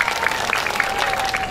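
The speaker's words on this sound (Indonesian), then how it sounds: "Tepuk tangan dulu buat abang kita." A small crowd at a neighborhood gathering in Indonesia claps for a man, a brisk patter of hands with sharper individual claps and a faint tonal hum underneath.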